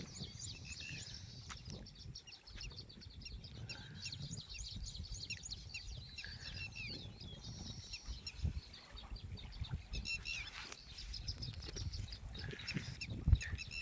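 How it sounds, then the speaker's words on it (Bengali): Several birds chirp and call repeatedly at a distance, quick high tweets scattered over a soft outdoor background. "এখানে পাখি কিন্তু ডাকছে ওই যে শুনতে পাচ্ছেন"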